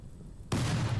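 A triple rocket launcher on fire detonates in Rimworld, erupting halfway through as a sudden loud blast that swells into a sustained rumbling roar.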